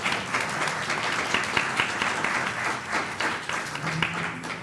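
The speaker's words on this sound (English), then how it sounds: "Can we get a round of applause for all of y'all?" Audience applause for volunteers at a church madrigal event, a sustained dense wash of clapping from a crowd lasting throughout with no voices.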